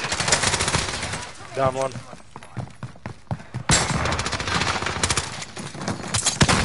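Loud gunfire in a first-person shooter video game: rapid bursts and single shots crack out in quick succession, with a voice talking over the action.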